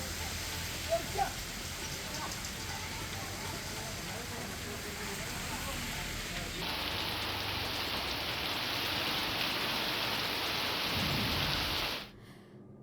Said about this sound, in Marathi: आजही ढगाळ वातावरणासह पाऊस सुरू आहे